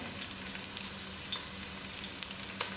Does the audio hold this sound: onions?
yes